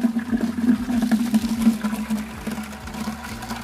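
Water splashing and running while washing a car, a steady wet rush with irregular spatters and a low rhythmic hum underneath, close and fairly loud with no talking.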